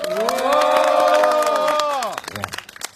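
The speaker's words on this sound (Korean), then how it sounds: "우리 큰 박수 한 번 부탁드리겠습니다" A crowd at a Seongju candlelight protest rally cheers loudly in a sustained, ringing swell, then breaks into scattered claps and shouts as the cheer fades.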